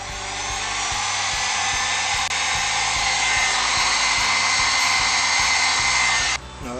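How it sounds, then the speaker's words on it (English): A heat gun shrinks tubing over a repaired motorcycle wire connection, giving a steady, close, loud airy blower hiss with a low motor hum that runs almost unbroken before cutting off near the end, with no talking. "Take the heat gun and heat the heat shrink tubing with some heat."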